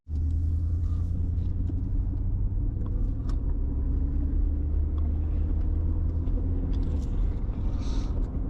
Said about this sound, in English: my idle is stuck on high. It's the idle control valve